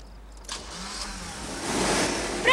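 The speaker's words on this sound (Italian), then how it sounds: "Provi a mettere in moto." A car engine cranks and turns over, the noise building from a faint start into a louder, broadband rush over about two seconds, with no one speaking.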